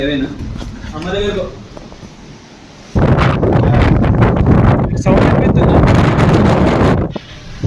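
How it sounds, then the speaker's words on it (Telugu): Strong wind blowing things away around a building during a storm, loud roaring gusts buffeting the microphone, with a voice speaking briefly before the wind surges. "చూడు ఘోరంగా ఎక్కడెక్కడ గాలి ఎక్కడెక్కడ ఎగిరిపోతున్నాయి"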